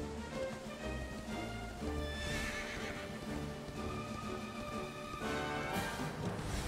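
Horse whinnies and hoofbeats from a Dragon Quest video game, sounding over a steady, dense bed of game music and effects throughout, with no talking.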